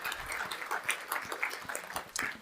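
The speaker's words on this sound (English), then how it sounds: "let's have a round of applause for Dennis" An audience applauds after an art lecture, a soft steady patter of many hands clapping together, fairly faint and even throughout.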